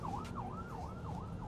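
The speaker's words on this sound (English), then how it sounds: "there's an ambulance next to me" Ambulance siren wailing in a steady rising-and-falling cycle, heard muffled from inside the cabin of a 2024 Mazda CX-90 3.3L turbo hybrid SUV, the vehicle right alongside yet the tone sounding subdued and continuous.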